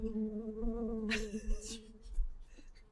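Bees buzzing with a steady, droning hum, sustained throughout, a few brighter rustles and faint sounds in the middle over low background rumble.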